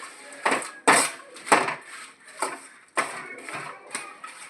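Mangalore-style chicken sukka dry-frying in a pan on a low flame without added oil, with about seven sharp, rhythmic scraping and clinking strokes of a spatula against the metal, close and fairly loud.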